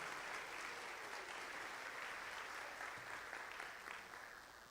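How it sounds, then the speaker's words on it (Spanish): A church congregation at a Lenten retreat applauds for the Virgin Mary, a steady, full wash of clapping from many people that carries on evenly and begins to fade near the end. "Vamos a dar un aplauso a la Virgen María"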